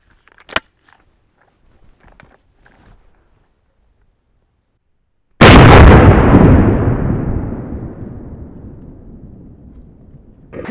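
A Baikal MP 18 shotgun fires a Winchester 1-ounce Foster slug from a 2 3/4 inch shell on a range, one very loud close blast with a long fading roar after a few quiet handling clicks.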